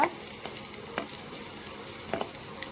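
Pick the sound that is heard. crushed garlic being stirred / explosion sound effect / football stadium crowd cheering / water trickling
crushed garlic being stirred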